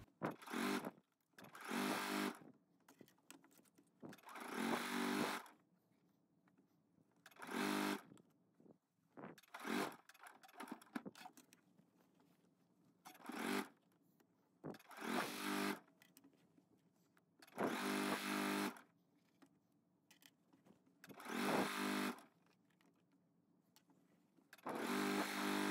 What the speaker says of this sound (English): you may take it to your sewing machine and edge stitch that hem for your bodice